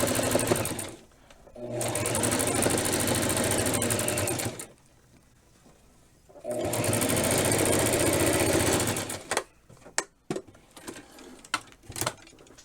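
A sewing machine stitches a Barbie dress seam in two loud sustained runs separated by a quiet pause, followed by scattered clicks and handling noises.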